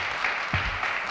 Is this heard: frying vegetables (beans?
no